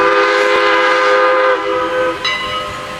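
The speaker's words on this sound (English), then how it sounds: "Listen to that whistle in the distance. Long blasts, classic steam power." Strasburg Railroad No. 81 vintage steam locomotive sounding its whistle at a quiet crossing, a loud sustained chord-like blast that shifts tone near the end, with train rumble underneath.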